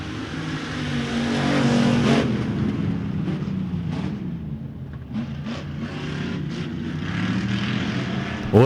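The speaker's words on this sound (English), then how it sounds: "Williams with a slight advantage down the back straightaway over Choate as they'll race down into turns 3 and 4" Race cars at RPM Speedway roar down the back straightaway toward turns 3 and 4, a loud continuous engine drone with rising and falling pitch as the cars pass, with no talk.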